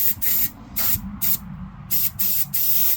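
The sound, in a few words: spray painting Tamiya FAV model legs and torso green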